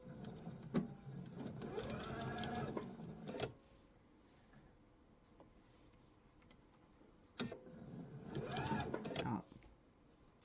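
A home sewing machine stitches a laptop sleeve in two bursts of rapid mechanical whirring, close and fairly loud, separated by a quiet pause with light handling noise, and someone talks over parts of it.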